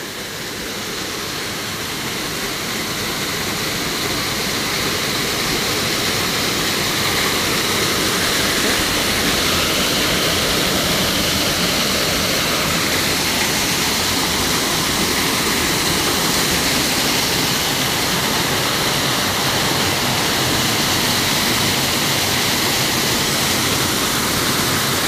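Strong rushing water pours down Magsaysay Falls as a loud, steady roar of broadband noise that fills the whole clip, close and continuous, with no voices heard.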